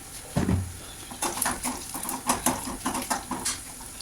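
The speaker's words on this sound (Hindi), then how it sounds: "कड़ी पत्ते ले आई हैं मैंने, डाल दिया। थोड़ा दूर से इसलिए डालती हूँ क्योंकि ये चटकते हैं बहुत तेज़" Curry leaves dropped into hot oil for a tempering while cooking dal, giving a quick burst of sizzling followed by a run of sharp crackles and pops close by, with no talking.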